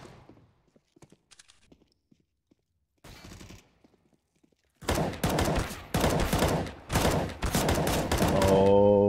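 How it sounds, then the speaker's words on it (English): Desert Eagle shots in Counter-Strike: Global Offensive, heard as a few sharp, loud bursts in close succession after quieter scattered clicks and faint game noise. "Eve is going to come through and lands it with a Deagle"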